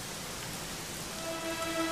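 Rain falls in the video game Dragon Quest XI, a steady even hiss of dense drops, moderately loud and unbroken, with a faint tonal hum rising underneath toward the end.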